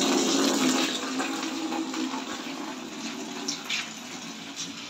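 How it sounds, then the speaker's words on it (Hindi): Water runs steadily into a bucket for watering dried-out potted plants, a continuous broadband splashing rush that stays fairly loud and even throughout, with no voices. "पानी भरूंगा इसमें अब मैं।"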